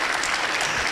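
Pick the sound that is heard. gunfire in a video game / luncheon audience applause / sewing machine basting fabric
luncheon audience applause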